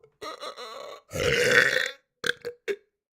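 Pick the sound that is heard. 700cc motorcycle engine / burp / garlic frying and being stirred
burp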